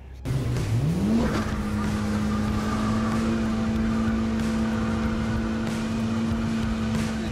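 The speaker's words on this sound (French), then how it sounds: "puis Nicolas reprend la 205 et tape dedans comme un malade jusqu'à la casse mécanique." A Peugeot 205 engine revs hard and holds at high, steady revs during a burnout, with a loud, continuous drone after a quick rise at the start and no voices.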